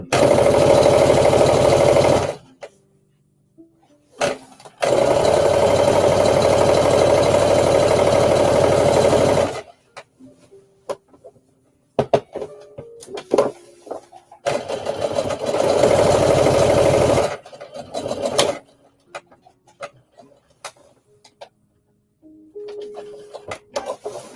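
A sewing machine stitches a dart on a jumpsuit in several runs of steady, rapid whirring, each lasting a few seconds, separated by quiet pauses with small clicks and handling noises.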